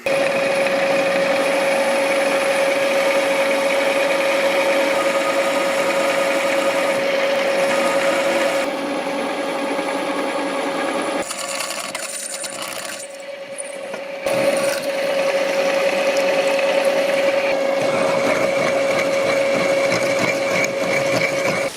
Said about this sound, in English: So I'm just going to drill straight through.